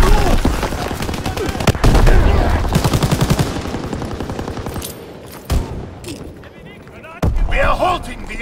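Dense battlefield gunfire from Call of Duty: WWII, rapid rifle and machine-gun bursts rolling over one another near and loud, with game voice callouts about an enemy tank and booming impacts mixed through.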